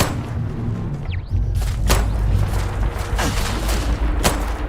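Gun turrets in Starfield fire a few sharp, separate shots over a rumbling game soundscape, with one early swooping tone and spaced cracks that stand out clearly.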